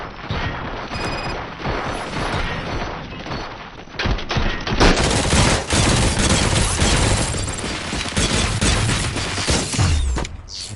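Gunfire rattles through a firefight in the video game RoboCop: Rogue City, a loud, continuous barrage of shots with thuds and impacts layered over a steady background din.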